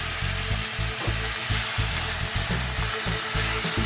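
Close, steady sizzling of chicken adobo in a hot pan, with regular scraping stir strokes repeating about every half second over the continuous frying hiss.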